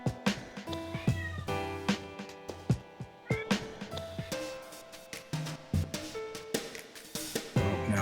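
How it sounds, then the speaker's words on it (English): A house cat meows over and over in short, close, fairly loud calls, some stretched into whiny, drawn-out cries, with brief pauses between them and no speech. "We have a cat."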